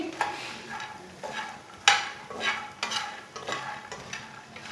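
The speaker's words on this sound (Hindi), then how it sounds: "फुल मखाने को 2 मिनट के लिए भून लेंगे।" Fox nuts (makhana) roasting in hot oil in a pan, a spoon scraping and stirring them in several distinct strokes over a soft continuous sizzle, close and fairly quiet.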